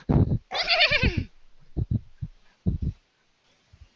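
Horses neighing in a loud, shaky whinny near the start, followed by snorts and short breathy bursts at irregular intervals, close by and without talk.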